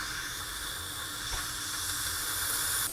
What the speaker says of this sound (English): I think I need to turn it off and run the steam out